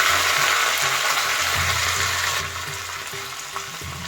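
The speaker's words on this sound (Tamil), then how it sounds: "சின்ன தாளிப்பில் வந்து நான் கொஞ்சோண்டு சீரகம் போடுறேன் கருவேப்பிலை போடுறேன்" Cumin seeds and curry leaves sizzle loudly in hot tempering oil for an Aviyal, a steady dense crackle with small pops that eases slightly partway through, with no voices.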